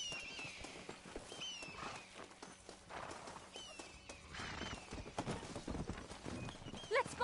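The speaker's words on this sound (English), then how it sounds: "They are good horses." Horses pulling a stagecoach clip-clop at a brisk pace, hoofbeats fairly faint under a murmur of background noise.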